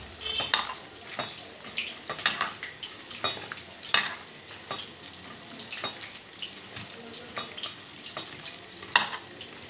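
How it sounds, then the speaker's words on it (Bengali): Raw mutton being kneaded by hand with chilli powder for mutton kosha, wet squelching and slapping sounds in irregular bursts, close and moderately loud, no voices. "এবার মাংসটাকে ভালো করে আবার একটু মেখে নেব।"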